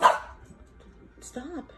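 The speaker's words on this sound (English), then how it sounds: "Why are you barking at me?" A dog gives a single sharp, close bark at the start, then a short yip-like whine follows after a pause, and a person speaks briefly in between.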